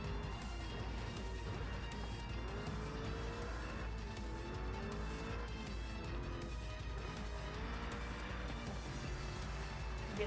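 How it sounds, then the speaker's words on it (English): Car engine in the racing game Forza Horizon 5, a steady loud droning hum with rising and falling pitch sweeps as the car accelerates and shifts, continuous throughout without talk. "The engine doesn't sound as good, I feel like."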